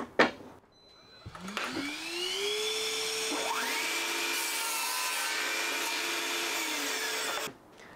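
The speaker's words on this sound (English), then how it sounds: "To cross cut this, I'm going to set up the miter gauge on the table saw and make the cut." A table saw spins up with a rising whine, then cuts across a wood board guided by a miter gauge, a steady loud cutting roar lasting several seconds before the blade stops abruptly.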